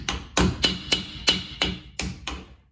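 A hammer taps a new seal into the rear differential of a 2004 Ford F-150, seven sharp, evenly spaced metallic strikes close by, each with a short ringing decay.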